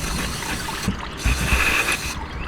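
Engine oil draining from a BMW F30 during an oil change, a continuous close trickle and splash into a container with a few small mechanical knocks.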